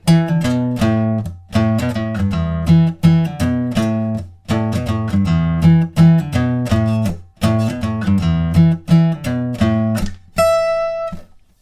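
An electric guitar plays the chorus riff of a song, a steady, driving chorded riff with rhythmic muted chops, looping several times before a final sustained ringing chord.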